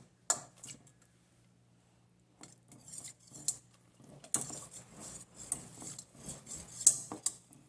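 A spoon clinks and scrapes irregularly against a bowl while mung bean starch is stirred, soft close taps in bursts separated by brief quiet pauses.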